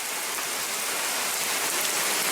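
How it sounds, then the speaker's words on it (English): Heavy rain pours down steadily near horses, a dense, loud, continuous hiss of drops hitting surfaces with no pauses. "A lot of rain."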